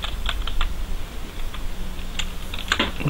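Someone types code on a computer keyboard, with quick, irregular key clicks close by and no voices.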